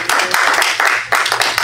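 A church congregation claps together, steady dense clapping at close range that keeps going with a few brief dips in loudness, no voices standing out over the hands.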